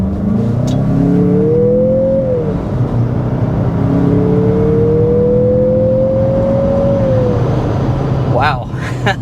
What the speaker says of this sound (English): let's go ahead and start with a hard acceleration